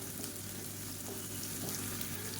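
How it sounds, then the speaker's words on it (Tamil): Mixed vegetables and sliced large onion fry in oil in a pan, a continuous close sizzle with faint stirring scrapes and no talk. "அந்த காய்கறி எண்ணெயில் வந்து நல்லா வறுத்துக்கலாம்."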